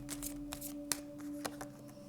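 Tarot-style cards are shuffled close by in a quiet room, giving several short riffling bursts and soft flicks spaced irregularly over a faint background hum.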